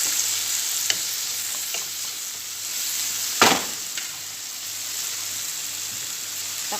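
Food cooking in a pan is stirred over a continuous sizzle, with intermittent scraping strokes and one louder clattering scrape near the middle, close and without voices.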